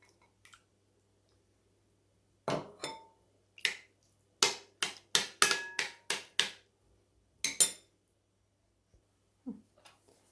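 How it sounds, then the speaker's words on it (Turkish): Yogurt being whisked in a wide bowl gives quiet, irregular clinks and taps against the bowl, coming in a quick cluster of strokes with short pauses and a few faint ticks at the ends. "Şimdi yoğurdu genişçe bir kabın içerisine alıp çırpacağım arkadaşlar."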